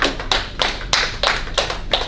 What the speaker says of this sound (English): Give yourselves a round of applause, guys.